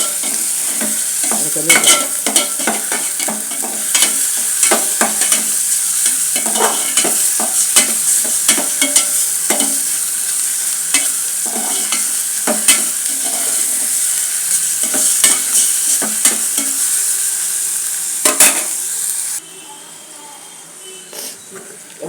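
Chicken and chana masala frying and stirred in a pan, with steady sizzle and frequent sharp scraping strokes of the spoon, loud and close, under occasional speech; the sizzle drops to a quieter hiss near the end.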